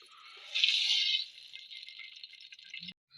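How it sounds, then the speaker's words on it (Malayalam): Coconut oil pours steadily into a heating pan on a stove for a chicken dish, giving a close, continuous liquid stream of about three seconds that swells early, then thins before stopping, with no talking. "വെളിച്ചെണ്ണ ഒഴിക്കേ"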